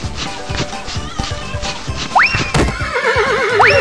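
A cartoon horse in an animated Hindi story lets out repeated shrill whinnies over a busy bed of music and rhythmic clatter, loud and close.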